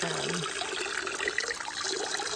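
Water from an old hand pump converted into a rustic farmhouse fountain pours in a spread-out stream, a steady close splashing and trickling that continues evenly throughout without speech.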